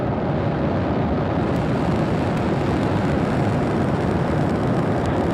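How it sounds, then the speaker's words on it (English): Falcon 9 rocket lifting off from SLC-40 at Cape Canaveral, a steady, dense broadband roar that holds loud and unbroken throughout, with no voices. "Liftoff."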